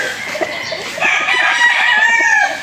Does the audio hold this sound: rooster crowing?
yes